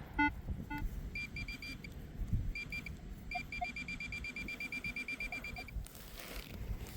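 Metal detector sweeping a local park baseball field, giving repeated short electronic beeps in quick rhythmic bursts with some low pitched tones, over outdoor background noise.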